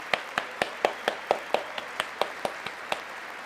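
About fourteen single claps in a steady, sparse rhythm sound after a call for applause during Trump's speech to Congress, with no talk over them.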